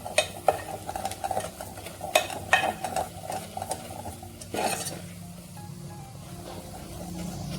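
Gram flour roasting in oil in a pan, stirred with repeated scraping and clinking of a utensil over a steady low sizzle, the stirring easing off toward the end.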